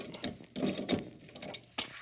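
Ratchet tightening the sway bar end link assembly with barrel nut on a 1965-73 Ford Mustang, heard as a few close, separate clicking and grinding bursts with short pauses between them and no voices.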